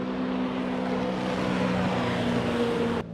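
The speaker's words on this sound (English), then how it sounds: "We got a jet ski coming through here." A jet ski's engine drones loud and close on the water near a catfishing spot, with a steady tonal whine that cuts off abruptly near the end.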